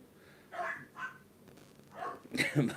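A dog in a garden gives a few short barks and yips in two clusters, fairly faint and mixed with nearby voices.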